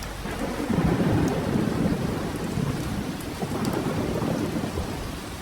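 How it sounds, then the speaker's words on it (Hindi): A heavy thunderstorm with dense, continuous rain on surfaces and low rolling thunder rumbling throughout, loud and enveloping, with no voices. "जोर जोर से बादल गरज रहे थे और साथ में लगातार बारिश।"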